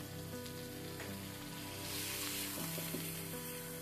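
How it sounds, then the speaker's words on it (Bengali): Ridge gourd, onion, garlic cloves and green chilies fry in a pan, giving a loud, continuous, close sizzle with faint stirring underneath. "এবারে সব উপকরণগুলোকে আমি ভালো মতো ভেজে নিব।"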